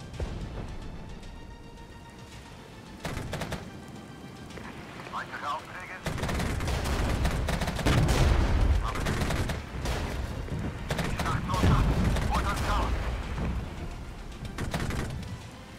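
Gunfire crackles through a battle in the wargame Regiments, with bursts of shots and heavy rumbling impacts growing louder after the first few seconds while a voice talks over the fighting.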